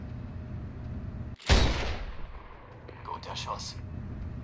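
A single loud sniper rifle shot in the shooter game Sniper Ghost Warrior 2 cracks out sharply and leaves a long rolling echo that fades behind steady ambient background noise.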